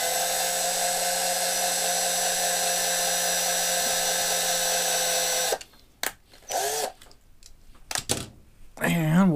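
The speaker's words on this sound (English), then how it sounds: "So what I'm gonna do next is I'm gonna drill this out." A small drill bores out a rivet on a 1972 Hot Wheels Vega die-cast toy car, giving a steady, close, high-pitched whine for about five seconds before it cuts off and a person starts talking.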